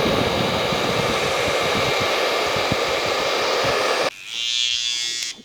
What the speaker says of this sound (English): Go over it with the blow dryer.